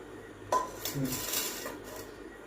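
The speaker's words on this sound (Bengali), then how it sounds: "তো আমার ছোট ভাই আলু ভর্তা করবে দেখেন কত সুন্দর করে সে আলু ভর্তা করে" Potatoes mashed by hand with a potato masher, a run of soft metallic clinks and scrapes against a pot or bowl, close and fairly quiet, with no talk.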